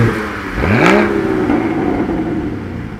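A Porsche Cayman GT4 exhaust blips in a single quick rev, the pitch rising sharply then settling back to a steady idle, close and fairly loud.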